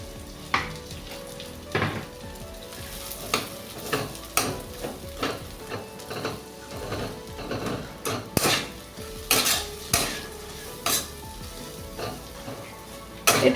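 Spices with turmeric frying in a pan for fish-head muri ghonto, a low sizzle broken by repeated sharp clinks and scrapes of a metal spoon against the pan every second or so, with no one talking.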